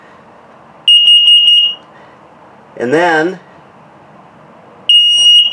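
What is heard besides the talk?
carbon monoxide LP gas detector test beeps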